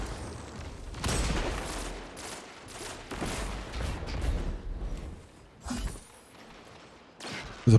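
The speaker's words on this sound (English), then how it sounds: "Huge nade." A grenade blast in the online shooter Destiny goes off amid a stream of game gunfire, with broad booming bursts and rapid rattling shots, loud and close, and a sharp hit at the very end.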